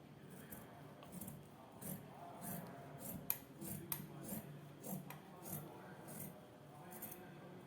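Scissors snip through fabric while a nighty sleeve is cut, a run of short crisp cuts repeating close by at a fairly quiet level with a little rubbing and handling noise between them.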